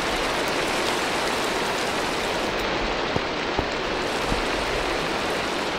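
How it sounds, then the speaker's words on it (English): Steady, heavy rain hisses continuously in the Five Nights at Freddy's game, with a few faint drips or taps standing out now and then. "the rain started again."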